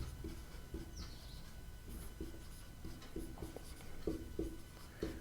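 Handwriting of a formula during a Class 10 maths lesson: a string of quiet, short pen strokes and taps in an uneven rhythm, close up over a steady low room noise, with no talk.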